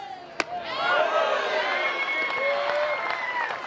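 A softball crowd at a college game between Texas and Florida cheers and whistles after an off-speed pitch, a broad sustained roar with a sharp crack near the start.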